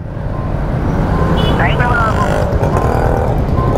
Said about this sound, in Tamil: இங்கே ஃபுல்லாக டிராஃபிக்காக தான் இருக்குது